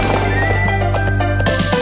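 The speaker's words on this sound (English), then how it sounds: "horse has four legs, he has four legs to gallop everywhere." A horse neighing in a children's song, a loud whinny over a steady musical backing with rhythmic beats.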